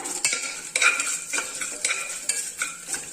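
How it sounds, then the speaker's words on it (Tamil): A spoon stirs dal rice with garlic in a metal pot, making quick, bright scraping strokes about twice a second over a light sizzle, close and without talk. "நல்லா கிளறி கொடுத்துக்கலாம்"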